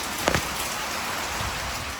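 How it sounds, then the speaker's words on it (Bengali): Heavy rain pouring down in a dense, continuous hiss, with one brief closer splash near the start. "এখন আবার কেমন বৃষ্টি একদম অনেক বৃষ্টি পড়তেছে"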